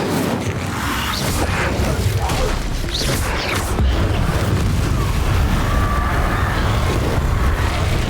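An Incendio fire spell cast in the video game Hogwarts Legacy bursts out as a loud, dense roaring whoosh, with rumbling flame and crackle that holds steady for several seconds.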